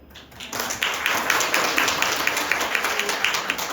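A church congregation at a Sunday service breaks into steady applause, dense and sustained for several seconds with no talk.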